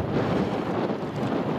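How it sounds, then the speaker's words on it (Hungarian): Strong headwind buffets the microphone while cycling in Slavonia, Croatia, in a continuous, loud roar, with no other sounds breaking through. "bármennyire is rossz ez a szél, mert eléggé fúj"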